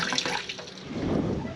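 Water running from a tap into a container, a steady rushing splash with a slight gurgle as the level rises, close and continuous.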